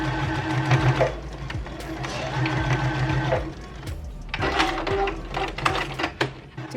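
A sewing machine stitches a sleeve into an armhole in bursts of rapid mechanical whirring, pausing briefly between runs, fairly close and moderately loud.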